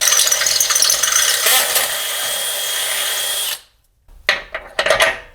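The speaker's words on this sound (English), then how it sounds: "we can go back to drilling out our hole." A power drill bores a hole for a track bar on a 2004 Jeep TJ Wrangler, running loud and continuous for a few seconds, then stopping, followed by brief short bursts.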